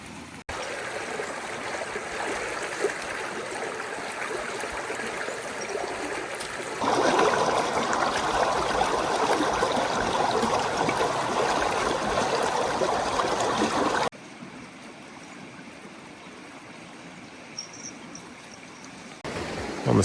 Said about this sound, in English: We are right by Clear Creek here outside of Leadville